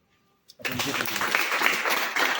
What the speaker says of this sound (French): On doit l'applaudir d'abord.